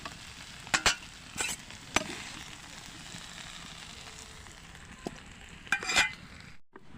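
Potato, cauliflower and eggplant fry in a pan, a faint steady sizzle beneath several sharp scraping stirs and clinks.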